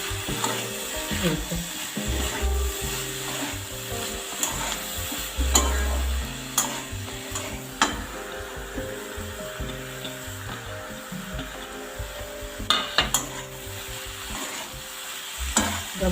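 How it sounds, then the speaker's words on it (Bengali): Small shrimp and malabar spinach stems frying with spices in a pan, a continuous sizzle with repeated stirring clacks and scrapes of a utensil, occasional sharp knocks, no clear voices. "একসাথে মশলাটার সঙ্গে এটাও ভাজা হয়ে যাবে"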